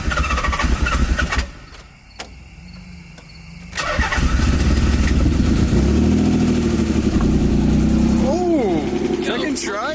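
A rebuilt Nissan 300ZX engine cranks and then catches, settling into a loud, slightly uneven running idle close to the microphone, with a short quiet gap between attempts and people talking over it.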